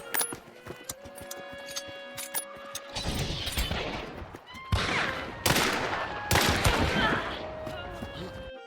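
Dolch 96 pistol fire in a video game: bursts of rapid shots, sharp and loud, that crowd together into fast volleys, sometimes under a talking voice.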